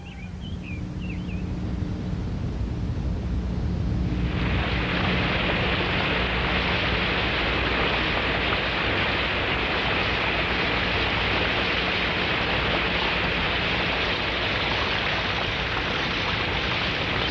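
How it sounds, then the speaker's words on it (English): Cartoon rain falls as a dense, steady hiss that swells suddenly after a few seconds into a loud continuous downpour with no break. "Darn this rain."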